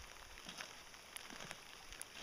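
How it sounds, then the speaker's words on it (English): Steady heavy rain patters and hisses against a surface on an Alaskan island, with a few sharper drops standing out, fairly faint and continuous with no voices. "It's raining profusely. It's windy."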